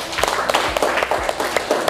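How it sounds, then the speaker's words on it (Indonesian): Classroom applause for a student group after their presentation: a dense, continuous patter of many hands clapping together, steady and fairly loud for about two seconds. "Oke, tepuk tangan untuk kelompok 1."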